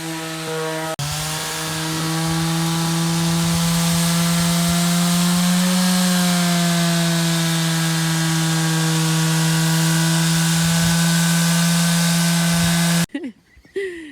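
A power saw cuts through old wooden planks, a loud sustained whine holding one steady pitch for about twelve seconds before it stops abruptly, followed by brief handling noise.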